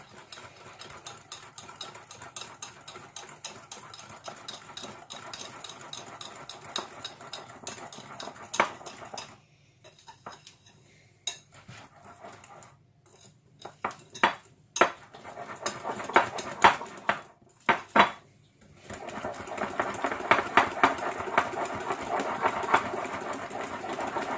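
Far breton batter being mixed by hand in a bowl, a steady scraping and whisking rhythm with clinks against the bowl, pausing in short gaps before resuming more vigorously; no talking.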